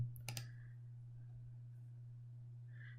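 A single computer mouse click, then a quick second click, sharp and close in a quiet room over a steady low electrical hum.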